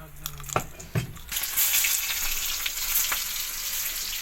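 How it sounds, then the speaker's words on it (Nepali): Onions frying in a pan for a home-cooked pea, eggplant and potato curry, a steady loud sizzle building after a few sharp knocks and clatters at the start, with faint talk early on. "प्याज डाल के फ्राई करिए"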